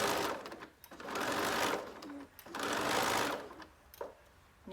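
Sewing machine stitching a zipper pouch, running in two long bursts with short pauses between, close and steady whirring with a back stitch at the edge.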